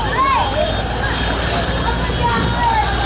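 Water splashes and sloshes steadily as a Mazda pushes through deep flood water in Karachi, with a low engine rumble and voices in the background.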